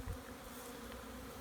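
Honeybees hum and buzz in a continuous dense drone as they fly around a nuc hive outdoors in winter, close and steady throughout the short moment.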